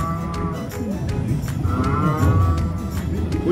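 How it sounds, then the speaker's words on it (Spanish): A toy dinosaur figure lets out repeated cow-like moos, loud and close, with no talking over it, during an outing to see dinosaurs in Puerto Rico. "Escucha, hace como si fuera una vaca."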